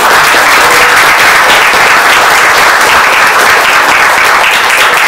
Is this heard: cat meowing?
no